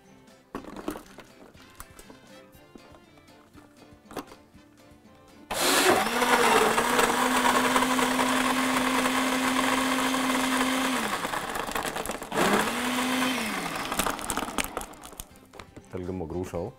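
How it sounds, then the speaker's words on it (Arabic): A blender whirs loudly for about seven seconds mixing crushed ice, sobia and hibiscus into a smoothie, then starts again briefly, with a voice speaking quietly before and after. "نقفل الخلاط ونخلط"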